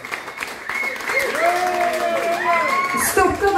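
Audience applause for the opening band at a rock concert at Hus 7 in Stockholm, a steady wash of clapping with some whoops, loud and sustained over lingering stage sound.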